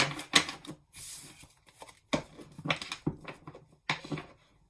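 A deck of tarot cards is shuffled in several bursts, each a crisp flurry of riffling and slapping cards separated by short pauses, close and moderately loud.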